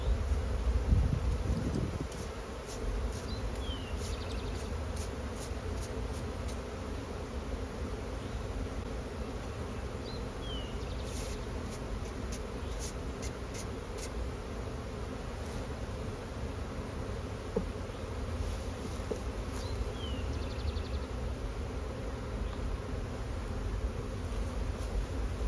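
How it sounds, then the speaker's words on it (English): A spring bee swarm being coaxed from a screen into a hive hums in a dense, unbroken drone, close and steady throughout with no voices. "It's hard to get these bees to get off of the screen and go into the hive"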